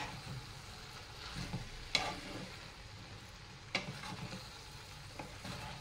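Chicken fried rice being tossed and mixed in a pan, a quiet low sizzle with two distinct spatula scrapes and clanks, heard alone without talk.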